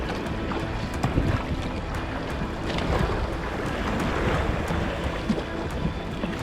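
Waves on Lake Laberge slap against a small boat while wind roars across the microphone, a dense, continuous wash of water and gusts with no clear breaks.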